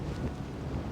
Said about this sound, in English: apologies in advance because that's probably quite windy